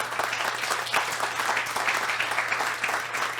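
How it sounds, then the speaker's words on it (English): Dense, steady clapping from a conference audience at a farm-day event, loud and close with rapid overlapping claps and a low steady hum underneath. "I need to stand up and applaud you"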